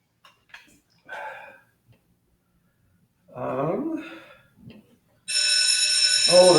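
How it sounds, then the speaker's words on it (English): A bell rings loudly and steadily for the last second or so, its ringing tone holding unbroken, with a voice speaking just before it and over its end. "Oh, there's the bell."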